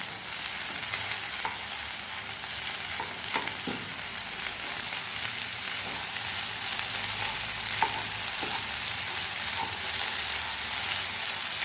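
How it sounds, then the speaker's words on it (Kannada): Egg tava pulao rice being mixed and broken up in a hot pan, a steady close sizzle with intermittent scraping and tapping of a spatula against the pan throughout, no voice heard. "ಅನ್ನವನ್ನೆಲ್ಲ ಮಿಕ್ಸ್ ಮಾಡಿ ಹೀಗೆ ಎಲ್ಲವನ್ನು ಬಿಡಿ ಬಿಡಿ ಮಾಡ್ಕೊಳ್ಬೇಕು"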